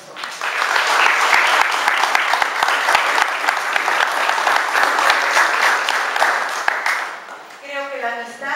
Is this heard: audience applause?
yes